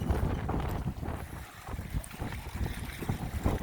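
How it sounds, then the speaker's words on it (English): Wind gusting across Lake Charlevoix at a dock in northern Michigan, a steady broadband rush with low buffeting rumble throughout, loud and close with no voices. "It's a windy day on Lake Charlevoix in northern Michigan."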